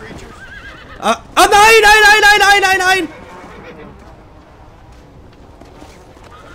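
A horse whinnies loudly in Red Dead Redemption: Undead Nightmare, a long wavering neigh up close lasting over a second, after a short cry out from a man, followed by quieter game ambience.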